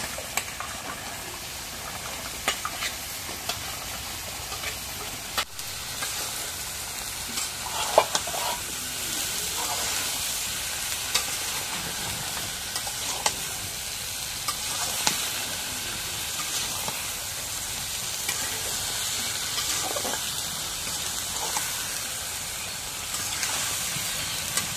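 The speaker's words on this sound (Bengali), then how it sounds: "এখন মশলাটা কষানি হচ্ছে, এখন তরকারি দিয়ে মশলা মধ্যে দিই।" Spices and vegetables, including ridge gourd and potato with dried fish, sizzling in a pan while being stirred, a continuous close hiss with occasional scrapes and knocks of the spoon, no voices.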